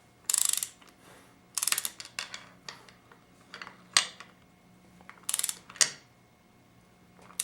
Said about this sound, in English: I'm gonna test it on that torque converter